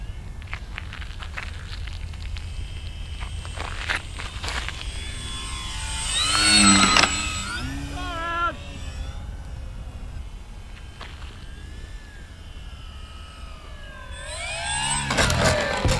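Durafly Tundra RC plane on Bigfoot wheels flying overhead, its electric motor a steady whine that swells and fades as it passes, with a brief louder surge before the throttle is cut.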